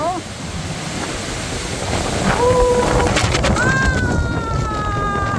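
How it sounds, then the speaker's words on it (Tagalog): Steady roar of strong storm wind buffeting the microphone with a wet, hissing wash of rain, while a voice talks briefly in the middle. "Lakas ang hangin. At may ulan."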